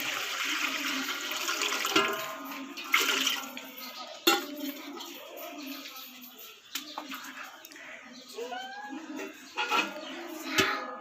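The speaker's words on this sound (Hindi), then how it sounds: "और इसमें डालेंगे पानी" Water splashes and gurgles into a cooking pot set on a stove for making Lahori chargha at home, a faint, uneven pouring with occasional clinks against the metal.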